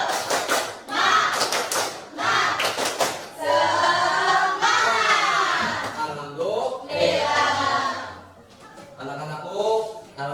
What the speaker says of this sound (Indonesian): Coba dong tepuk semangat.